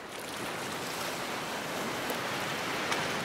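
Ocean surf at Seal Bay on Kangaroo Island washes in as a steady, broad roar of breaking waves. It holds an even level throughout, with no voices.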